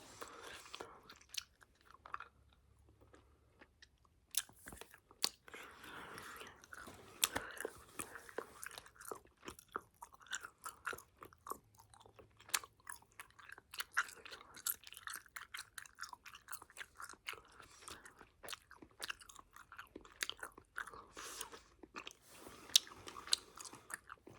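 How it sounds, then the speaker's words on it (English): Cold, hard gum is chewed close to the microphone, with a long run of wet, crackly, uneven chewing and snapping sounds throughout, quiet and intimate. "So this gum is harder because it's cold."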